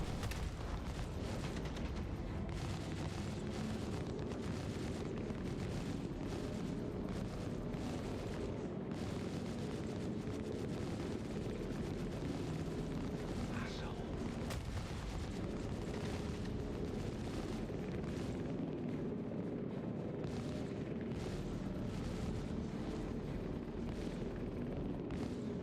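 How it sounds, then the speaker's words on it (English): Ship turrets fire in the space game Star Citizen, producing a dense, continuous barrage of heavy booming shots that stays loud and constant throughout. "Turrets aren't firing. Oh, never mind, they are."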